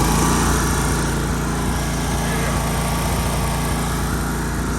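Key-start mower engine running throttled up, a loud, close, continuous roar with a fast low thumping beat that stays steady throughout, no voices over it.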